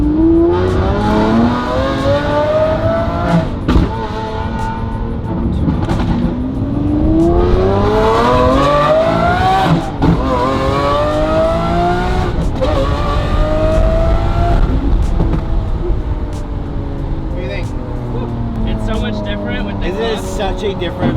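A Lamborghini SVJ fitted with a loud aftermarket flamethrower exhaust revs hard again and again, its pitch sweeping up and falling back, very loud and close, with sharp pops and voices talking over the roar.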